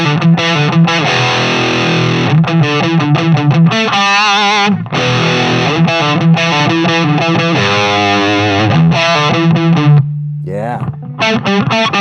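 Electric guitar played through a rev pedal with distortion, loud close riffs of chugging chords and sustained bends that ring out, with a brief pause near the end before playing resumes.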